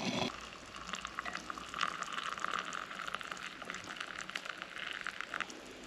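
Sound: water boiling over a homemade alcohol stove

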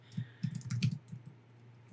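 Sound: typing on a computer keyboard

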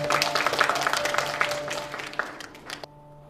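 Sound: audience applause

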